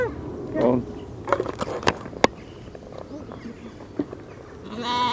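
Sheep bleating at a vintage country show, a few short calls mixed with crowd noise and nearby conversation.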